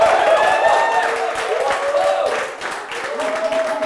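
A studio audience on a quiz show gives a round of applause, a busy clatter of many hands with whoops and raised voices cheering over it, loud and sustained.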